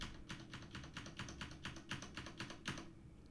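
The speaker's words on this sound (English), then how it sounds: "Let's tap caps lock." Quiet, rapid tapping on a keyboard's caps lock key, a rhythmic series of light clicks over a soft background hum.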